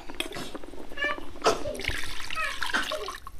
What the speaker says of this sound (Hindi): अब इसी में देते हैं पानी।